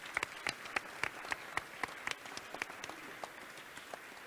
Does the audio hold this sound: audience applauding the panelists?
yes